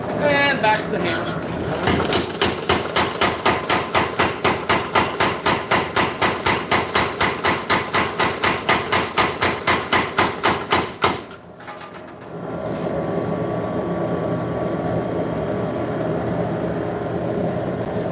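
Hammer forging a Bowie knife blade, a steady rapid series of heavy ringing strikes lasting about ten seconds, then stopping as a broad roar of forge or machinery continues.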